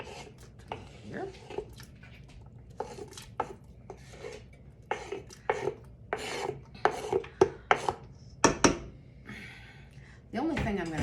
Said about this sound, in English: half of the onions are chopped up